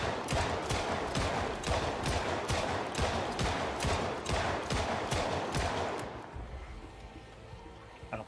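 Rapid gunfire from a firearm in the zombie survival video game Project Zomboid, a dense run of about a dozen sharp shots at a steady quick rhythm, loud and close, then breaking off into a quieter tail.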